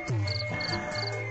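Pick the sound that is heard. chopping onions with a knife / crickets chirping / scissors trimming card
crickets chirping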